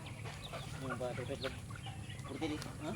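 Native chickens cluck and chatter in a steady flock, close by, with a low background hum and no clear speech.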